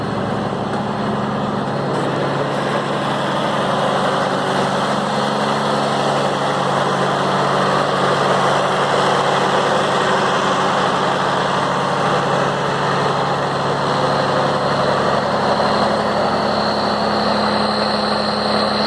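A 1970 M35A deuce and a half military truck idles steadily, its diesel-type drone continuous and loud from start to finish with no talking.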